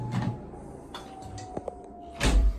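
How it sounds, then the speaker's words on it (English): A door is opened or closed nearby, with a few soft knocks and rattles and then a heavier thud at the end, with no talk. "There's the door."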